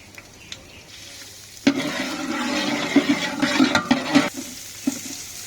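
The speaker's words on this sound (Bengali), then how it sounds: "শুরুতেই আমরা একটু রসুন ভেজে নিব।" Garlic frying in mustard oil in a large pot for a khichuri batch for thirty people, a bright hissing sizzle starting abruptly and holding steady with small crackling pops, then cutting off.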